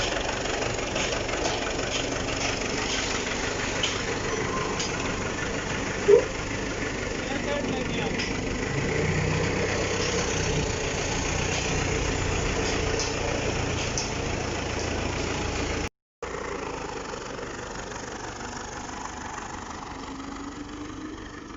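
Truck engine with a complaint running in a workshop, a steady mid-pitched rumble that holds fairly even throughout with a brief knock and a short dropout near the end.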